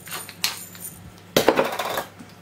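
Spoon scraping and clinking against a dish while salt-and-pepper-seasoned food is stirred around, two short bursts of metallic scraping with a louder, longer stir in the second half, close up with no talking.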